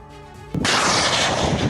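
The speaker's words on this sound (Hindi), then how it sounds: "यूक्रेनी राष्ट्रपति जेलेंस्की के सोशल मीडिया चैनल ने इस विस्फोटक हमले का सीसीटीवी वीडियो जारी किया है" Missile strike exploding against a building in Ukraine, caught on CCTV: a faint tonal hum gives way to one sudden, very loud broadband blast whose roar fills the rest of the clip, with no voices.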